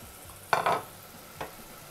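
Mint and coriander sauté in a pan for prawn biryani, with a couple of brief stirring scrapes and soft sizzle bursts over a quiet background.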